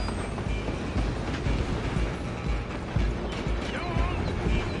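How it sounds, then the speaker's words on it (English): Moving train in Red Dead Redemption 2, a steady, dense rolling rumble with metallic creaks and rattling of the cars, close and continuous throughout, with no voices. "I'm gonna ride ahead and stop the train."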